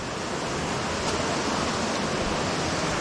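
Small double waterfall at Pig Pen Falls pouring into a little swimming hole, a steady broadband rush of falling water, close and constant without breaks.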